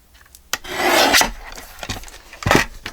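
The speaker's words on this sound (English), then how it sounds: "Just trimmed a little tiny piece off of it." Scissors trimming a small piece off a pudding box journal, a few close, sharp snips and rubbing rasps heard alone at short intervals.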